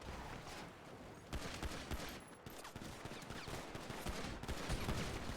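Rapid bursts of gunfire in GTA roleplay on a NoPixel server, dense overlapping shots crackling continuously over several seconds at moderate volume, with no talk.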